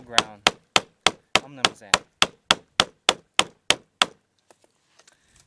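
A hollow-ground knife blade chops repeatedly into test material on a recurve blade test, about thirteen sharp, evenly spaced thwacks close up over four seconds, then a few faint taps and quiet handling.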